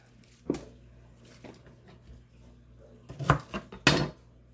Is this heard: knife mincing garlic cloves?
yes